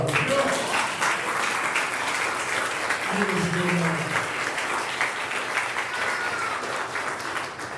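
Sustained applause from a crowd at a college graduation ceremony, dense and steady throughout, with a voice briefly audible beneath the clapping.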